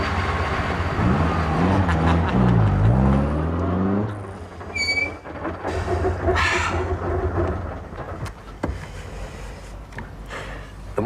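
A car engine turns over and runs as the car pulls away, a deep rumbling drone with shifting pitch that stays loud and steady throughout.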